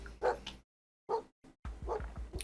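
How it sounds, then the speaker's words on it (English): A dog barks and yips from inside a house in the video game Dream Daddy, in a few short, close bursts separated by brief silences. "What if he's the one making barking noises and there's no dog?"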